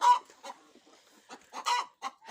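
Several chickens and small young roosters clucking in short, irregular bursts, fairly close, with rooster-like calls among them and quiet gaps between.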